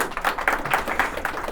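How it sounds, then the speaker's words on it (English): A short burst of audience applause for a podcast guest, quick scattered claps at moderate loudness, continuous for under two seconds. "Give a round of applause to Dr."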